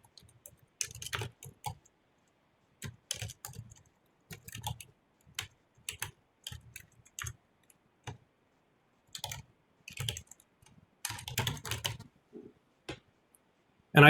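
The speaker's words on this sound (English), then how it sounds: "by typing it regularly, I really get to learn it properly" Bursts of clicky keystrokes on a computer keyboard as code is typed, coming in short irregular runs separated by brief pauses, close and fairly quiet with no talking.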